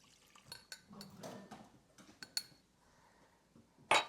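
Fork stirring 2% milk and half and half together in a bowl for sugared morning buns, heard as faint, scattered clinks and scrapes of metal against the dish, with one sharper clink near the end.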